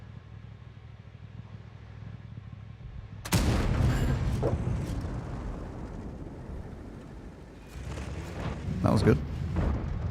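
Artillery fire in a tank battle video game: a sudden heavy boom jolts in partway through, followed by rumbling aftermath and a second burst of blasts near the end, with a player's voice briefly heard.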